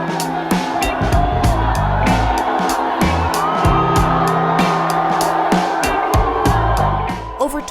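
A crowd of over 25,000 at a Bernie Sanders rally in Queensboro Park cheers and whoops steadily, a broad roar sustained throughout with sharp claps and shouts rising above it.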